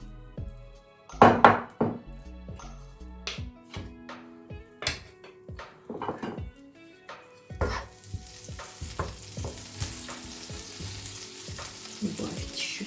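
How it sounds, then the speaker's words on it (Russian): Butter sizzles in a heated frying pan, starting with scattered knocks and pan clatter, then settling into a steady, fairly quiet hiss of frying. "На разогретую сковороду примерно 1 столовая ложка сливочного масла."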